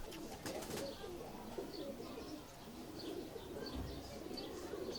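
Pigeons coo softly in a loft, low repeated throaty calls with a few chirps and a brief wing flutter, fairly faint against a background hum.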